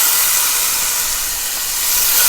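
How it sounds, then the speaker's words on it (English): Beef pieces sizzle in hot olive oil on a stove for a stir fry, a loud, steady, close hiss of frying with no pauses and no voices. "I'm going to go ahead and add my beef pieces in there."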